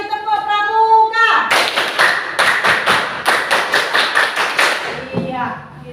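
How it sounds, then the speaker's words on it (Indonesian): A classroom of primary school children performs a Scout rhythmic clap, a patterned burst of sharp, loud hand claps in quick groups with a few pauses, after a voice speaks and before it fades into chatter. "Satu kali tepuk pramuka."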